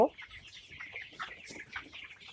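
Broiler chickens, 29 days old, in a flock of about 700 on a farm: continuous soft clucking and chirping from many birds, moderately close, with a louder squawk at the very start.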